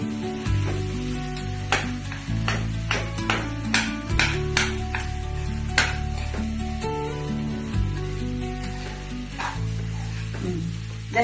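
Potato curry sizzling and frying steadily in a pan on the stove, a continuous close crackle with frequent stirring scrapes and clinks of a utensil against the pan, no voices.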